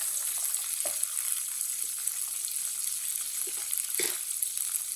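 Raisins and dry coconut roasting in a pan, a steady soft sizzle with occasional faint stirring knocks, heard close and without any talking.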